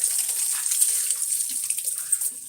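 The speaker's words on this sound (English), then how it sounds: "Oh boy, it's just pouring all on the floor." Water pours steadily onto a floor during a doll repaint and repair session, a continuous broadband splashing hiss that runs close and fairly loud without a break.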